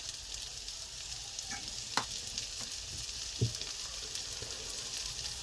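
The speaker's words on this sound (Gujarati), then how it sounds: "હવે આપણે મકાઈમાં આવી રીતે થોડી વારે હલાવતા રહેવાનું છે" Fresh corn kernels sizzle steadily in a pan, a constant frying hiss with occasional soft scrapes and taps as a spoon stirs them, close and moderately quiet.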